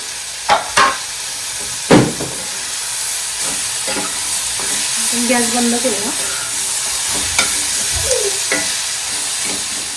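Tomatoes with turmeric and salt sizzle loudly and steadily in a pan for chutney, with a few sharp utensil knocks early on; someone speaks briefly over the hiss.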